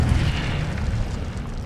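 The Incendio fire spell bursts in Hogwarts Legacy, a loud, deep whooshing boom with a sustained roaring rumble, no voices over it.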